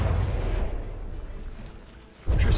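Heavy artillery fire at point-blank range in the naval combat game From the Depths, a dense continuous roar of booming shots that swells back up at the end with no talk.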